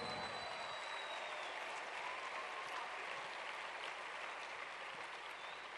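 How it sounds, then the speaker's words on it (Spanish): Church congregation applauding during a sermon, a distant, faint, steady rush of many hands clapping without any voice on top. "Vamos, God. démosle al Señor un fuerte aplauso."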